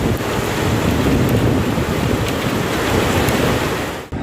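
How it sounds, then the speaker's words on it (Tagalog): Strong wind over Baguio City buffets the microphone in a loud, continuous roar with gusty surges, and no voices are present. "Maulap at mahangin buong araw ang kalangitan sa Baguio City."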